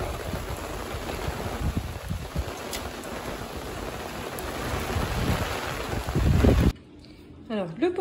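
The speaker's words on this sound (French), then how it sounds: "clairement, il y a du vent là. Beaucoup, beaucoup, beaucoup de vent" Strong wind buffets outdoors on a May day, a heavy rumbling roar with gusty low-frequency bursts that cuts off abruptly near the end before a voice begins.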